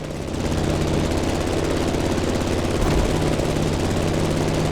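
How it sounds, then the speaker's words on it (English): A plane taking off in the racing game The Crew Motorfest: a steady, loud engine and propeller drone that holds at an even level throughout, with no voices over it. "The plane has taken off"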